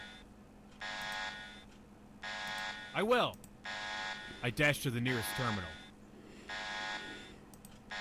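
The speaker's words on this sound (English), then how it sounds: "the alarm howling like this, it won't be too long before we attract some unwanted attention" A game alarm in Bionic Heart howls in repeated harmonic blasts about a second long, separated by short gaps, while a voice speaks over the middle of the pulses.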